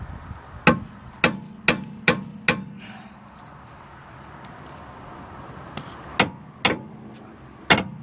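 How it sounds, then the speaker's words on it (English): Sharp, loud hammer strikes from a 2-pound hammer opening out a rear bottom link part on a Jaguar X-Type: a quick run of five blows, a pause, then three more spaced impacts, each ringing briefly, with no talk. "get a 2-pound application stick and strike it a couple of times to open it out"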